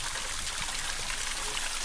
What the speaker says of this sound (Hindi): ये देखो भाई झरना आ रहा है ना ऊपर से